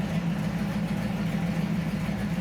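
A 1972 Pontiac Firebird Formula 400 engine idles steadily with a deep, even low rumble, running close and continuous throughout without revving.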